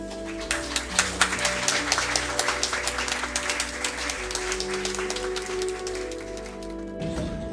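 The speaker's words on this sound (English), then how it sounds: "A big round of applause for Dr." An audience at a talk on depression applauds, a dense steady patter of many hands clapping that fades and stops near the end.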